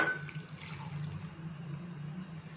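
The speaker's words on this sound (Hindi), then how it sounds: "सबसे एंड में मैं इसके अंदर डालूंगा हाफ कप पानी का" Half a cup of water pours into a grinder jar holding ginger, garlic and red and green chillies, a short close splashing trickle that settles into a faint steady flow.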